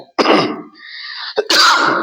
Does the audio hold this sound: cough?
yes